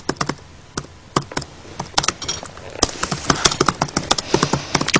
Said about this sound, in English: I talk too much for him to be typing.